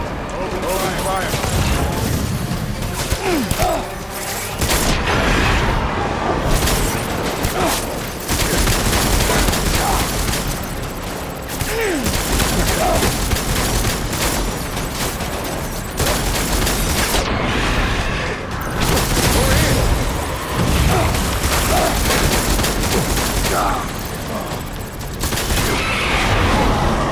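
Heavy gunfire in the video game Death Stranding, a dense, loud, continuous barrage of shots and booms filling the whole stretch, with brief voices shouting over it.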